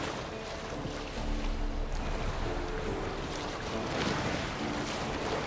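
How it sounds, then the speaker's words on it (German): Sail flapping in the wind aboard a boat in The Witcher 3, a steady broadband rush of wind and sea with soft irregular fluttering throughout, no voices. "Geh aus dem Wind, das Segel flattert."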